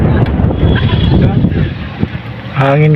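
Heavy wind buffets the microphone in a continuous roar, with a boat engine droning at the end.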